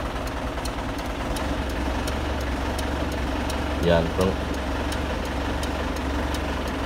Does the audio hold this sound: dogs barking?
no